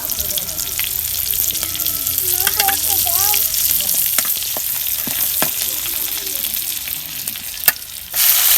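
Kumli leafy greens fry in oil in a pan while being stirred: a steady, close sizzle throughout, punctuated by scraping and clacking utensil strokes, ending in a brief louder burst.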